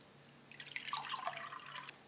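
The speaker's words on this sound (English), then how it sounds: "Let's pour some up" Orange-flavoured isotonic drink from a Swedish ration, made up with half a liter of water, trickles and splashes softly as it is poured, a faint steady liquid sound lasting over a second.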